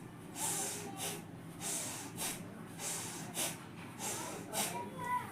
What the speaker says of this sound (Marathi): दीर्घ श्वास सोडायचा।